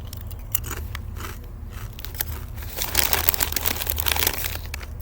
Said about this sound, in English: Nice crispy crunch, obviously.